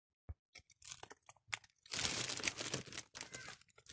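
Haribo gummy sweets crunched and chewed close to the mic, with irregular crisp bites and crinkly wrapper-like rustles building into a dense burst of crunching midway.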